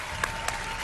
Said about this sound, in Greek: Ο Σάκης ο Τανιμανίδης, ένα πιο δυνατό χειροκρότημα!